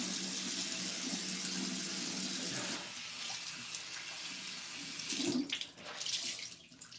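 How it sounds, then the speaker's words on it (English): Tap water runs steadily into a sink while a face is rinsed, a close, continuous splashing stream that shifts as hands dip in and slosh water near the end. "So let me rinse my face."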